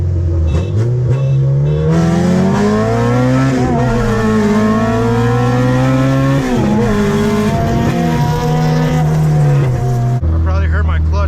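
An Acura RSX Type S with Type R parts accelerates hard on a race run, the engine close and loud, revving up through the gears with shifts between climbing pulls, over steady road and wind noise.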